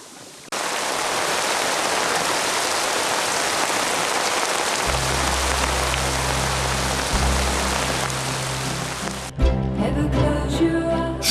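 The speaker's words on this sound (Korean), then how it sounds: "잠수를 준비하는 사이 비가 내리기 시작했는데요" Heavy rain pours onto the sea surface off Sipadan, Borneo, as a loud, dense, steady hiss; a low rumble joins partway through, and the sound shifts near the end as if going underwater.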